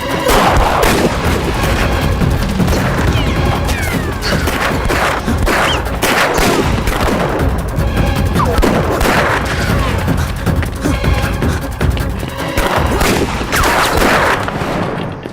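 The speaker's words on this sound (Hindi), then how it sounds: "गोली चलाओ।" Dense, continuous gunfire from a movie action scene, loud overlapping shots and bursts like a fusillade, sustained without pause for the whole stretch.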